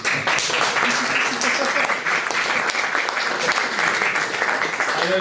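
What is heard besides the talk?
conference audience applause for the Guardian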